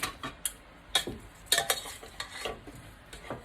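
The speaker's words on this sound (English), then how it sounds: "Then I'm just going to stir them up." Potatoes coated in oil and seasonings are stirred up for crispy smashed potatoes, giving close, irregular scraping clatters and light knocks against the dish, with no talking.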